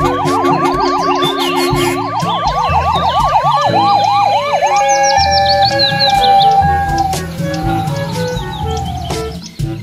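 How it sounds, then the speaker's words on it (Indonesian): A toy ambulance siren wails in a rapid, looping electronic pattern, loud and close, then shifts into higher chirping tones and a steady electronic note before cutting off. "Yang ini ada mobil ambulans."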